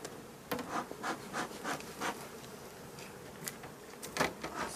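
A drone-laying honeybee hive, buzzing faintly and unevenly in close range, with rhythmic rubbing and scraping bursts as the hive is handled.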